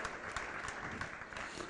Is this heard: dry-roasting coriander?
no